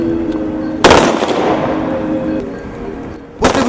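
A ceremonial salute of blank gunshots at a memorial rally in Donetsk gives two sharp, loud cracks about two and a half seconds apart, the first ringing out over a low background hum.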